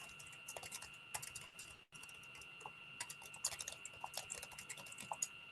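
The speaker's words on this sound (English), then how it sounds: "I'm just typing and sending" Quiet typing on a computer keyboard, a brisk run of soft key clicks with a brief pause, then irregular tapping continues close to the microphone.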